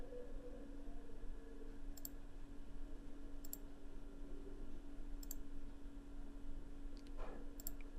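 Sharp, isolated computer mouse clicks, about five spaced a second or so apart, close and crisp over a constant low hum, no voice.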